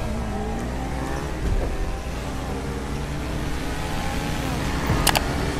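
Racing car engines from the video game GTA Online, a steady revving drone with rising pitch sweeps, held at an even level throughout with a brief louder burst near the end.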